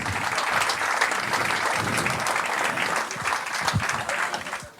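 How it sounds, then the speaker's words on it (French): An audience at a sailing regatta prize-giving ceremony claps steadily for a winner, a dense, sustained round of applause from a sizeable indoor crowd that fades at the very end. "Allez, on l'applaudit."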